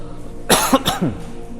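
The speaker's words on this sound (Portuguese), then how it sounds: "tô sarando da tosse, ela vai e volta, mas tá indo" Three short, raspy coughs in a quick cluster over a steady low background hum, close to the listener.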